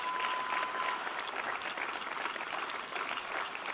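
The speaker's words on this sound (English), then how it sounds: "Please give all of these individuals and the graduates a round of applause for their dedication and service to the college." Graduates and guests clap at a community college commencement ceremony, a steady, fairly soft wash of applause from a large crowd heard at a distance, continuing evenly throughout with no speech over it.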